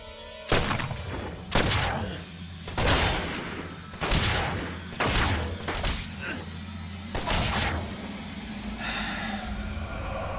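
Gunfire in the video game Murdered: Soul Suspect: about seven loud, sharp shots or short volleys spaced a second or so apart over a low background rumble.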